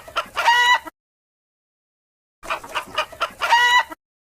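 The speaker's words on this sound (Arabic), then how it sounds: "دجاجة." Chicken sounds up close: clucking rises into a rooster's crow, heard as two separate loud bursts with a pause of silence between them, with no voices.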